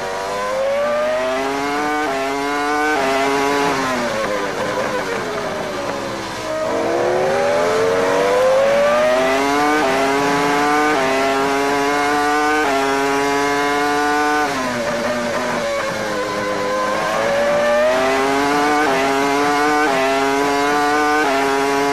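A Formula One car heard onboard during practice at the 2002 Brazilian Grand Prix screams at high revs, climbing through rapid upshifts and dropping on downshifts, loud and continuous with no voices.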